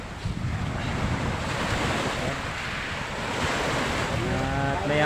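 Strong ocean waves surge and crash continuously against a wind-buffeted microphone, a loud, steady roar of surf with no voices.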